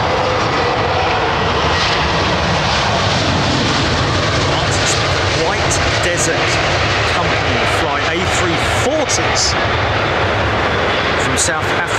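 An Airbus A340 airliner arriving at London Heathrow on runway 27R roars loud and steady throughout, with a broad engine rumble that never lets up and talk running underneath.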